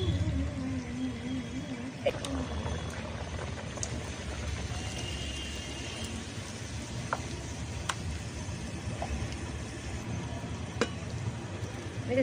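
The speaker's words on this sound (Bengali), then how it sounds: "আবারও একটা আমি দিয়ে দিচ্ছি তেলের মধ্যে। এভাবে আমি সবগুলো ভেজে নেব।" Chatu kochuri, sattu-stuffed fried breads, frying in hot oil: a faint, steady bubbling crackle with a few soft clicks and taps from the pan.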